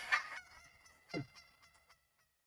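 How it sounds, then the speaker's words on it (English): A recorded hen gives an excited yelp, a short burst of bright calls at the start followed by a lower squawk, played back alone and fading out within a couple of seconds. "So this is the excited hen yelp."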